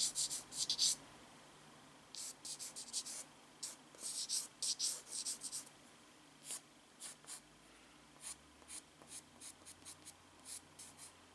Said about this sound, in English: And then my pencil again, my light pencil.